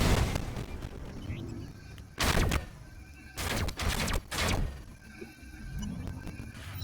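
In a video game, an enemy is destroyed with a sudden burst of loud, crackling blasts, a few sharp explosive bursts close together over a faint background.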